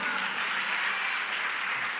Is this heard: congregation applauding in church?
yes